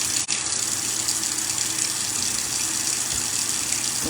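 Cold water runs steadily from a kitchen sink tap, a constant rushing gush that stays loud and even throughout with no voices.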